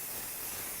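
A brief soft hiss of fine mist spray onto quilt backing fabric, faint and steady for under a second.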